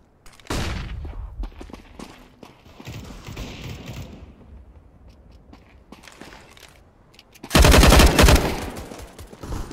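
A flashbang grenade goes off in Counter-Strike: Global Offensive, a loud, sharp burst near the end that rings on for about two seconds, following earlier gunfire-like bangs and scattered clatter from the match.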